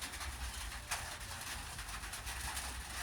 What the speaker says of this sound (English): Sounds of the rains and the birds chirp away.